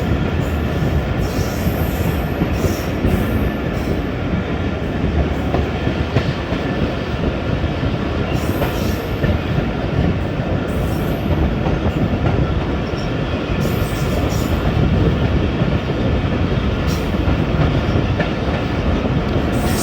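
A passenger train on a Pakistani ML-2 rail journey rolls past a thermal power station, heard from on board as a loud, steady roar of wheels on track with faint squeals and occasional clatter, no voices.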